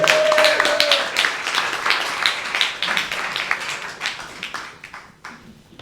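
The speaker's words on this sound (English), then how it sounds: "So give a round of applause to Dr. Rehiana, all the way from Bradford." Audience applause at a talk on the future of Palestine, a dense burst of clapping that starts strong and gradually thins and fades.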